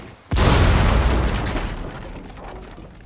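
A grenade blows up in a video game: one loud, close boom that bursts in suddenly and then fades slowly into a long rumbling tail.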